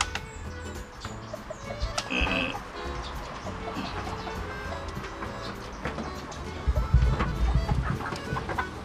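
Native and Australorp chickens cluck and squawk at feeding time, a busy mix of close and distant fowl calls with a louder burst near the end.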